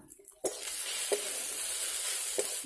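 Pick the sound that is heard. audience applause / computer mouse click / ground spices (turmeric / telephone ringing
ground spices (turmeric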